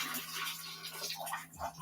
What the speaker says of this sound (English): I'm going to pour it in there like that over the sink, but not all the water.